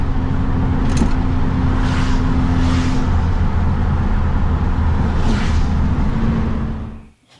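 Volkswagen Beetle engine driving through the gears, a steady close-up drone with a low hum and several brief rising surges as gears change, fading out at the end.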